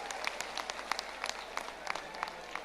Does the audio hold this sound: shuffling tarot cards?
no